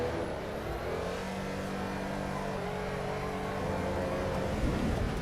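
A race car engine in Assetto Corsa EVO revs and holds a steady, droning pitch, shifting once midway, loud and continuous with no talk over it.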